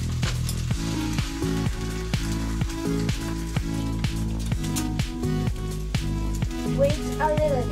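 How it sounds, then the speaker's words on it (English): Eggs frying in an oiled pan while a Japanese breakfast is made, a steady close sizzle and crackle running throughout, with a low mechanical hum in the background. "Put oil in the bread pan. And then put eggs in the bread pan."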